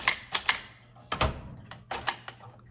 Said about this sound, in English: But this is an amazing typewriter.